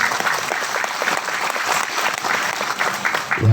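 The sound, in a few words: applause for Dr. Wargo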